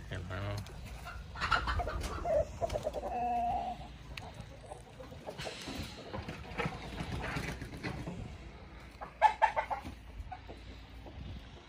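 Chickens on a chicken farm in Australia cluck and chatter repeatedly in a busy, close mix, with louder bursts near the end and some voices mixed in.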